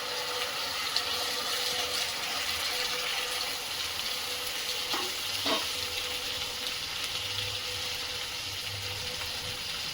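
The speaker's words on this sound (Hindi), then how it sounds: "अब इसमें 2 टमाटर का प्यूरी डालेंगे।" Tomato puree sizzles in a pan of frying masala with a bright, constant hiss, and around the middle a couple of brief clinks from stirring cut in. It is steady and moderately quiet, with no talking.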